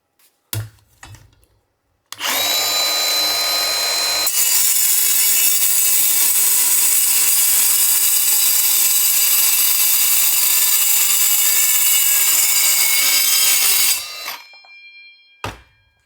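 Power saw cutting the corner off a wooden gusset, a loud continuous whining cut of about twelve seconds, close up, with short clicks and handling noise before and after.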